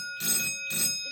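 A fire alarm bell rings in march-time code: two ringing bursts, each about a third of a second long, separated by short gaps, loud and close.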